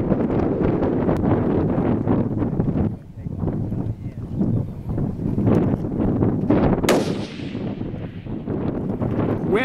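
A long-range rifle shot fired at a target 1000 yards away in the Buffalo Challenge: one sharp crack cuts through loud, steady outdoor wind buffeting partway through the stretch.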